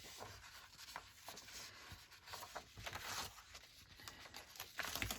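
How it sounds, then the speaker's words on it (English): Old cross-stitch embroidery fabric being torn by hand for a Christmas craft project, giving a close, dry ripping and crinkling texture in short uneven bursts over about five seconds with no talk. "I'm just going to tear it, I think."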